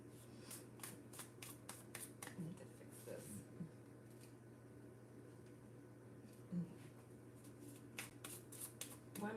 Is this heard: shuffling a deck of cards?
yes